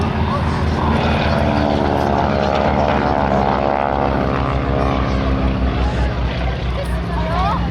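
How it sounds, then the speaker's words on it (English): Propeller display-team aircraft diving past at speed during an air festival, a loud, sustained engine drone that swells and shifts in pitch as the planes sweep by, with a crowd faintly audible. "Dave calls this a dirty dive, so in they come, super speedy."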